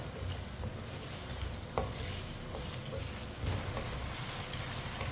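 Potato pieces frying in a pan over a medium flame, a steady soft sizzle with occasional scrapes and knocks of a stirring spoon, close and continuous.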